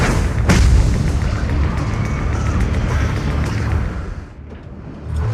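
A loud, sustained rumbling blast fills the scene as the array base is destroyed in Zenless Zone Zero, with a sharp boom near the start and heavy low roar continuing before easing off near the end.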